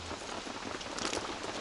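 Steady rain falls outdoors at a clay-wall building site, a dense, even patter of drops filling the whole clip with no voices.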